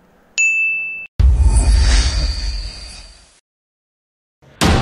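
A bright bell ding of a subscribe-button sound effect rings briefly, followed by a louder whooshing burst and then silence, with no talk.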